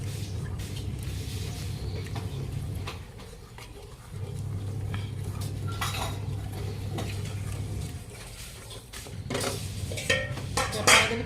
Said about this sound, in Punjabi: ਇੱਕ ਦੋ ਮਿੰਟ ਇਸ ਤਰ੍ਹਾਂ ਮਿਕਸ ਕਰਕੇ ਨਾ ਫਿਰ ਆਪਾਂ ਇਹਦੇ ਵਿੱਚ ਪਾਣੀ ਐਡ ਕਰਾਂਗੇ